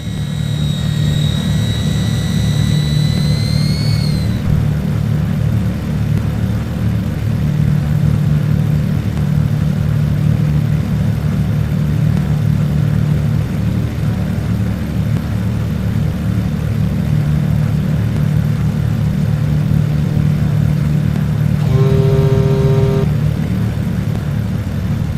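A Cessna Skymaster's engines drone steadily on a runway in Flight Simulator X, holding a loud, even low rumble throughout, with a brief whistling tone near the end.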